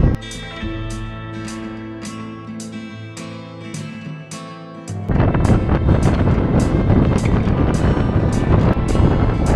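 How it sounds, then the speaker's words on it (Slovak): Strong wind blowing on the summit of Zvolen hill roars in a loud, dense buffet against the microphone for the second half, after a quieter stretch of tonal music at the start. "ale strašne fúka"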